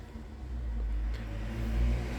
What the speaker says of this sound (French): Vous risquez d'entendre la circulation ce matin.